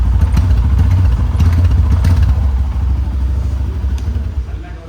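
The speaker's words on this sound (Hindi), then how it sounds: "देखो ये है इसका एग्जॉस्ट" A Honda CB125 motorcycle idles after being started, its exhaust giving a steady, close, low thumping putter with light mechanical clatter that eases slightly toward the end.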